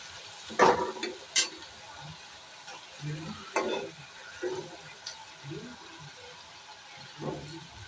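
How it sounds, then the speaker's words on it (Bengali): A chapati, pricked so it won't puff, frying slowly in a pan, with soft intermittent sizzles and scraping stirs coming in short bursts, close but fairly quiet, with no voices. "এটা এবার আস্তে আস্তে ভাজতে হবে"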